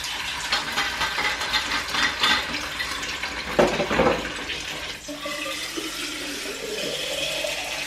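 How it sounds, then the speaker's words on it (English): Water running from a kitchen tap into a drinking glass at home, a steady close splashing gush with a brief louder burst midway, then a rising pitch as the glass fills. "Oh, I need to top up my water."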